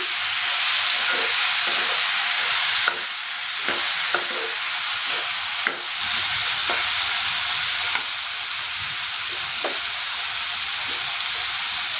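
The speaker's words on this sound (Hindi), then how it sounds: "इन सबको अच्छे से मिक्स कर लेना है" Drumstick curry with tomatoes sizzling and frying steadily in a pan while being stirred, with a constant bright hiss broken by occasional soft scrapes and clicks of the spoon, close and fairly loud, no talking.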